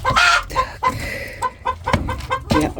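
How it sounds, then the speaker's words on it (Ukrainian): Chickens cluck in short, repeated bursts close by, with a rooster's louder call among the steady, uneven clucking. "Півник"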